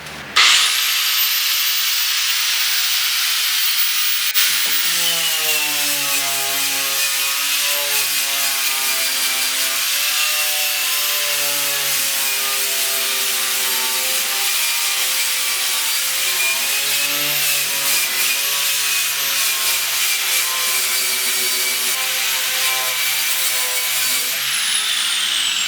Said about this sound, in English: You want to grind that.